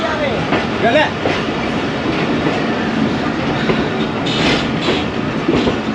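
Ravi Express train rolling out of Mamu Kanjan station on a classic branch line, a steady broad rumble of railcars with clickety-clack rhythm and occasional brighter wheel noise, fairly loud and continuous with no talk.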